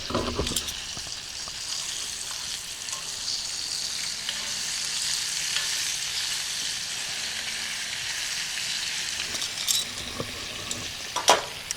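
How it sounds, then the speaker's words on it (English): Deer meat sizzles steadily in a hot pan, a constant crackling hiss with a few faint clinks and scrapes near the end. "Those are frying up awesome"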